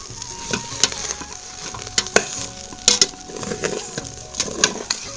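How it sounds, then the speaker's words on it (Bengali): A spoon scrapes and clinks in a pan as rice, lentils, spices and soybeans sizzle for khichuri, giving irregular stirring knocks over a steady frying hiss. "তো দেখো সমস্ত মশলার সঙ্গে কিন্তু চাল ডাল ভালো করে নেড়ে চেড়ে নিয়েছি।"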